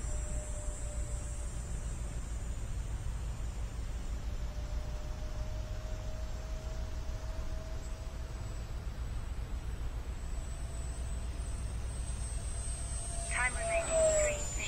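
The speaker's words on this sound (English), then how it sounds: "That is one beautiful jet. She's flying on half throttle right now." An X-Fly A-10 Thunderbolt II radio-controlled jet with twin 50 mm ducted fans flies at half throttle, giving a steady high whine and rushing hiss that holds throughout, with a faint rising whistle near the end.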